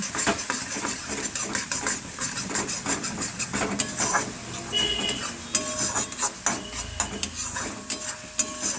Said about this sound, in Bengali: নুন হলুদ দিয়ে কিছুক্ষণ নাড়াচাড়া করে নেব।